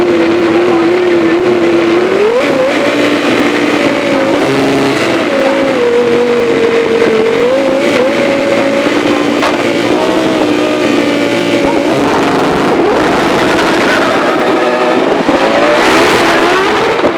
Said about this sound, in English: It's great to see and hear that fabulous GWR Predator V10 again